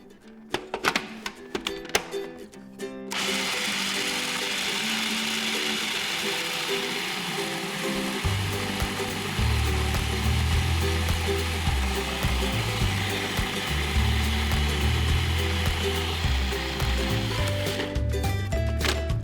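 Food processor grinding almonds into almond butter, a steady loud motor whir with a heavy low churning rumble that runs almost the whole time, starting after a few seconds of brief clatter.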